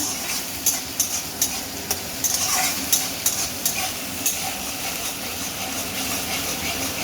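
Dhoka dalna masala being stirred in a pan over a raised gas flame, with a steady sizzle under sharp scraping strokes repeating through the whole stretch; no voices.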